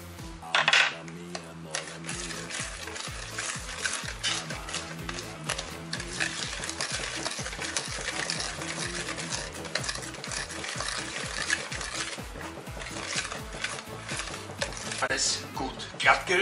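Kladdkaka batter being stirred smooth in a bowl, with a steady run of scraping, tapping strokes against the sides that continues throughout, plus a few louder clinks.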